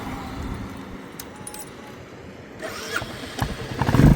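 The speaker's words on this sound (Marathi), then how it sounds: "आता बघा गाडी एकाच सेलमध्ये चालू होते का नाही आपण ते पण पाहूया." A Royal Enfield Bullet Classic 350 motorcycle cranks on its electric starter and fires up, the engine catching partway through and rising into a louder, close, uneven idle after a quieter stretch of mechanical clatter.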